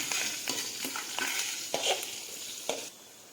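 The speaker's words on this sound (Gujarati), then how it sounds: "મરચાં આપણા સરસ તળી ગયા છે" Oil sizzles steadily in a pan with green chilies and curry leaves frying while a spoon scrapes and stirs in a few short strokes; no voices.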